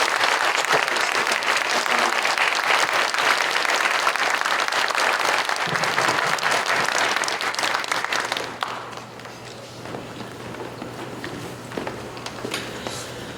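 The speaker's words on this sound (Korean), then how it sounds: "큰 박수로 축하드리겠습니다" A church congregation at a thanksgiving service applauds a presbytery moderator, with loud, sustained clapping from many hands that thins and softens partway through, leaving a lighter scatter of claps at the end.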